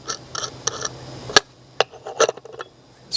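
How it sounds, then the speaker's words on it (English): Screws being undone on a metal plate while a Hengear Auto Roost chicken nesting box accessory is installed, heard as close scraping, rasping turns and scattered sharp metallic ticks. "Then we're going to attach this plate on here by unscrewing this."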